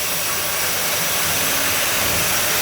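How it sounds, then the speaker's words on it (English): A steam locomotive pulls forward and its driving wheels go into a violent spin, giving a loud, steady roaring hiss and chuff-like rush that stays constant throughout with no voices. "As the locomotive pulls forward, it immediately goes into a violent spin."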